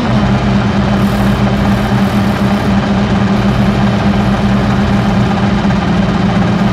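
Rally car engine in the racing game Dirt Rally 2.0, a loud, constant low-pitched engine drone held at steady revs throughout, alone with no talking.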